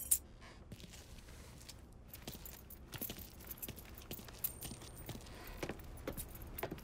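Keys jangle in the crime game Mafia III, faint irregular metallic clinks over a quiet background, with no talk.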